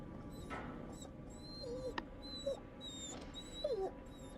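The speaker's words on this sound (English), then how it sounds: "whimpering. Please save the doggy." A dog in the horror video game The Devil in Me gives several short, high whimpers spread across a few seconds over a steady low ambient drone, with no talking.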